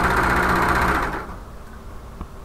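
Sewing machine stitching the lining of a shoulder bag, a steady loud mechanical whir for about a second that stops abruptly, leaving quiet room tone.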